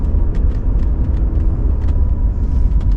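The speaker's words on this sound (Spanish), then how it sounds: "Vamos a probar cómo acelera, cómo va el coche." A 1991 Mercedes 560SE W126 accelerating, heard as a loud, steady low engine rumble with road noise and a few faint ticks on top, continuous and close.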